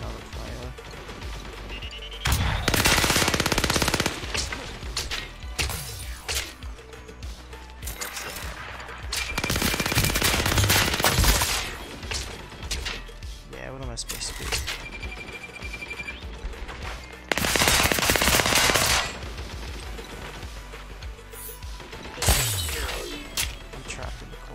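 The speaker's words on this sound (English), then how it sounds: "Oh, this is impossible against a machine gun." Bursts of machine gun fire crack loudly in the online shooter Scavengers, several long rapid volleys separated by quieter stretches of game noise and scattered hits.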